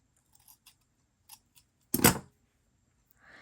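Scissors cut fabric for a textile cuff: a few faint light clicks lead to one loud, crisp snip, followed by a brief soft rustle in an otherwise quiet room.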